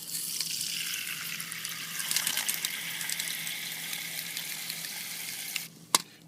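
Water from a tap filling a 1 cup measuring cup, a steady close gushing stream that changes pitch as it fills, then stops, followed by a sharp knock.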